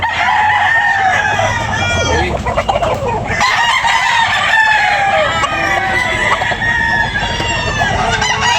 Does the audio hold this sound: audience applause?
no